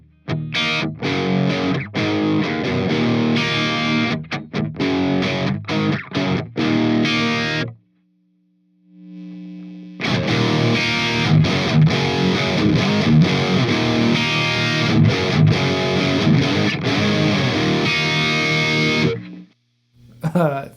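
An electric guitar plays through a 3rd Power Dirty Sink tube amp in Plexi mode with the gain raised. Loud, distorted chords and riffs ring out, break off briefly and then return as a sustained crunchy passage that stops abruptly.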